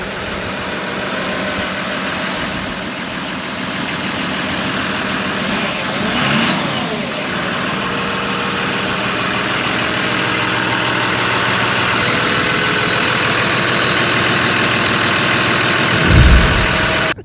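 Hitachi ZW180-5B wheel loader diesel engine running steadily at a fairly loud, constant level, with a brief louder low thump near the end.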